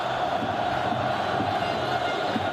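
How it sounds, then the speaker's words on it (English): Football stadium crowd at a World Cup qualifier in Jordan, a steady dense roar of many voices filling the clip, loud and continuous without pauses. "the crowd continues to get louder and louder"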